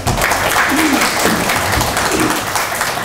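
A crowd applauds steadily, a dense wash of clapping that stays loud and even throughout.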